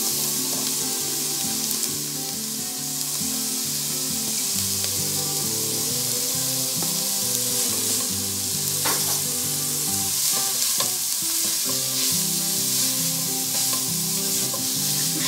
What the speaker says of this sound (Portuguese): Vou colocar aqui para estar refogando junto.